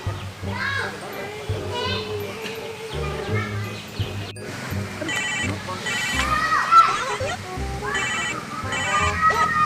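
A phone ringtone plays repeatedly, a bright melodic tone over a busy mix of children's voices and background music.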